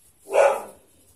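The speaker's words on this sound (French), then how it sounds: "Excusez-moi, c'était le chien qui roulait." One dog bark, close and clear, rising and fading in about half a second against a quiet room.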